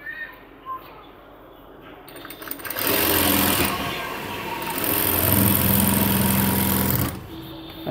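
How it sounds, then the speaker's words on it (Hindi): A sewing machine stitches a seam on cargo half pants, a loud steady whir running in two long bursts with a brief slowdown between them, preceded by quieter handling noises. "ऐसे रखने के बाद एक सिलाई लगा लेंगे यहाँ पर।"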